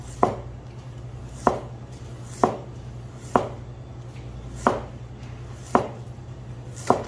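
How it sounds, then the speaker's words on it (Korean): A knife cuts a carrot into thin strips on a cutting board with single sharp chops landing at a slow, steady pace about once a second, close and distinct over a quiet background hum. "당근 한 개 이렇게 채 썰어 주시면 되고요"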